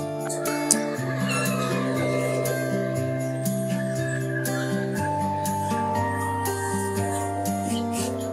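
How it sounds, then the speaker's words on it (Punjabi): Newly hatched chicks, a farm hen and desi rooster cross, peep continuously inside an egg incubator with rapid overlapping high chirps, close by and fairly loud. "ਮਸ਼ੀਨ ਵਿੱਚ ਬੱਚੇ ਨਿਕਲੇ ਹੋਏ ਆ"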